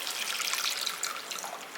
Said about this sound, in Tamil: 1 டம்ளர் தண்ணி ஊற்றிக்கிறேன்